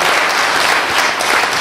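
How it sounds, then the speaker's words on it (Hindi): Vigorous applause from the crowd at a Hindi poetry recital, a loud, close, dense burst of many people clapping that holds steady throughout without any voice. "जोरदार तालियां होनी चाहिए"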